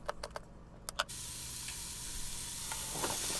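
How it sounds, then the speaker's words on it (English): Onions sizzle and fry as they brown in a pan, a steady broadband hiss after a few opening clicks and stirring knocks, close and continuous with no talking. "I'm just gonna, brown these onions up, and then I'm gonna add the turkey to it"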